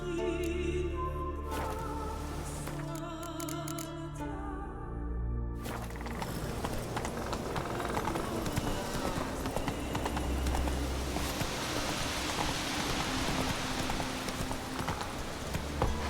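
Hooves of Roach, Geralt's horse in The Witcher 3: Wild Hunt, clip-clop in a steady rhythm beneath in-game music and ambience, growing busier and louder toward the end.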